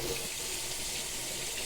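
Tap water runs steadily into a kitchen sink while an egg is rinsed, a close, continuous broadband splashing with no talk.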